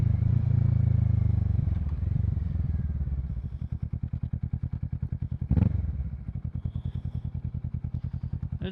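Kawasaki Z650 fitted with a Yoshimura Alpha exhaust, block-off plate installed and baffle removed, idling nearby with a rapid, even thumping pulse after an initial louder rev, plus a brief clunk midway.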